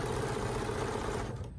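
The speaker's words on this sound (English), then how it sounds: "And I'm going to start sewing." A sewing machine stitches quilt fabric for an hourglass pinwheel table topper block, a rapid even mechanical chatter running close and steady before it slows and stops.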